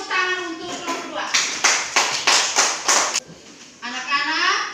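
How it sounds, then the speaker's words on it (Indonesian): About two seconds of lively applause from a classroom of children for a student group, with a voice talking just before and after the clapping. "Tepuk tangan untuk kelompok 2."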